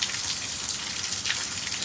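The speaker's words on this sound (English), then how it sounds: "is this rain ever gonna stop?" Rain falls on Marco Island, Florida, as a steady close patter of drops and wash with no voices over the short stretch.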